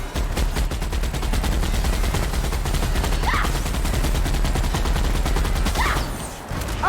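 Rapid, loud, continuous automatic gunfire in The Outer Worlds, a dense sustained barrage of shots with brief whooshing effects, a short dip near the end and then one last burst.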